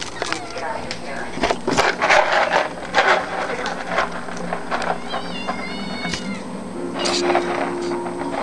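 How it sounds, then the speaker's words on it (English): Hungry kitten meowing repeatedly in short rising cries, close by, with people talking intermittently over rustling background noise. "Hungry little kitten."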